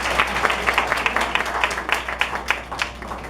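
An audience applauds for Rose at a Women's Day event, a steady run of clapping from a small crowd lasting a few seconds, moderately loud and close.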